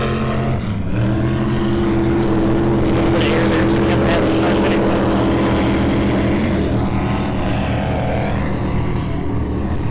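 Racing powerboat engine at the Englewood Beach Waterfest, a loud steady drone that eases off partway through, with the engine tone dropping and continuing at lower intensity.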